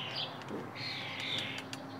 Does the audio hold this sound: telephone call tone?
no